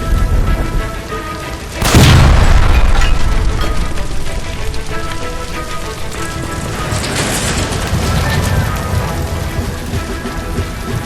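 A gas line explosion inside an electroplating building in the L.A. Noire video game, a sudden loud boom followed by a long roaring, crackling rush of debris that slowly fades, with no talk.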